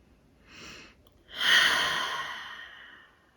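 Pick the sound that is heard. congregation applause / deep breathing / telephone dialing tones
deep breathing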